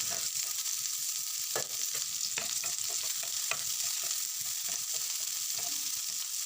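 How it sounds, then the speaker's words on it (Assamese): Chopped onions and green chillies frying in oil with five-spice seeds in a pan, a close, steady sizzle broken by scrapes and clicks of a spatula stirring, with no talking. "অলপ সময় পিঁয়াজখিনি ভাজি লৈছোঁ"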